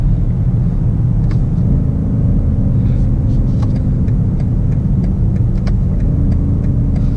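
A 2020 BMW X5M Competition SUV accelerating, its engine a steady, loud low rumble heard from inside the cabin, with faint clicks and road noise over the drone.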